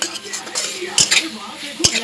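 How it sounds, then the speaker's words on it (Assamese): Fish and spices stirred in a pan, a utensil scraping and clinking against the metal with a couple of sharper knocks, close and fairly loud, with no voices. "এতিয়া মই এইখিনি এতিয়া ভালদৰে মই মিক্স কৰি ল'ম মাছখিনিৰ সৈতে।"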